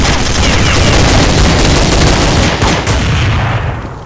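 Dense, continuous gunfire from Counter-Strike 1.6, with overlapping rifle shots and bursts, loud and close throughout. The shooting eases slightly in the final half second.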